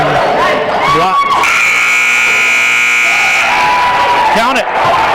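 A game buzzer at a girls' high school basketball game, a loud sustained electronic tone of about two seconds over a noisy gym crowd, with cheering and commentary running around it.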